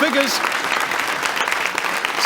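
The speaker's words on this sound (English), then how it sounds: "Can we give them a big round of applause, please, audience, for that?" A BBC studio audience applauds during a 1980s Children in Need broadcast, a dense, loud wash of clapping that starts right away and holds steady, with a voice briefly heard over the start.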